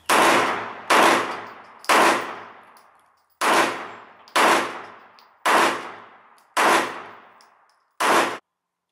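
Eight loud, evenly spaced single gunshots from a weapon in a shooter video game, each a sharp metallic crack with a brief decaying tail, about one per second, with no voices.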